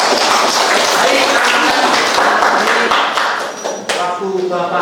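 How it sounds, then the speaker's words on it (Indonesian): Classroom applause for a student group presentation in an Indonesian Islamic culture class, a dense, loud burst of clapping that holds steady then thins out, with a voice beginning to speak near the end. "kasih tepuk tangan untuk kelompok 2"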